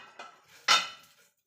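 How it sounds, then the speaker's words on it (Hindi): Food being gently mixed by hand in a bowl, with soft clinks of utensil against dish, a brief scrape near the start and one louder clatter in the middle, close by and with no talking. "अब इसे हल्के हल्के हाथों से ही हमें मिक्स करना है"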